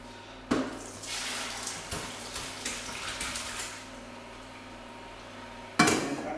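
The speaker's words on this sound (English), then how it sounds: "strain the water out of the pot" Water from boiled potatoes is poured out of a pot into a sink, a steady splashing stream with a clank of the pot at the start and another near the end.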